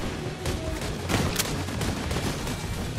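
Gunfire from the video game The Division 2 during a raid rattles in dense, rapid bursts at close range, a continuous loud barrage with sharper peaks but no clear talk over it.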